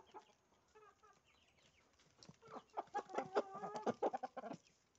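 Backyard chickens clucking and chattering while being fed, quiet at first and then a louder cluster of close, rapid clucks and squawks toward the end.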